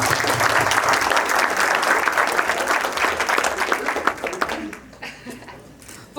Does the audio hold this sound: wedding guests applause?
yes